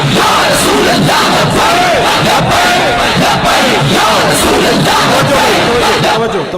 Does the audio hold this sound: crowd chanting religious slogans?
yes